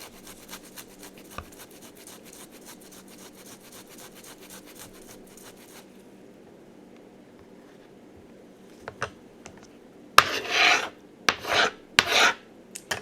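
Thawed frozen ginger scraped over a grater in short, loud rasping strokes that start after a long quiet stretch, each burst separated by brief pauses.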